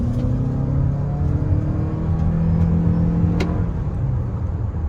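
A 2024 Toyota RAV4 Prime XSE accelerating in sport mode, heard from inside as a steady, fairly loud engine and road drone with a low hum and no talking.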